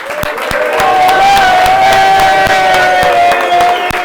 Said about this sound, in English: And one more round of applause for the production team.